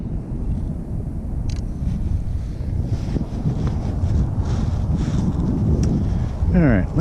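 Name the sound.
wind blowing on microphone outdoors on pond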